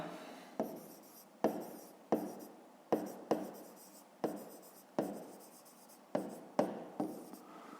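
A pen writes on paper in short repeated strokes, each starting with a sharp tap and trailing off in a scratch, roughly a dozen in a row at close range.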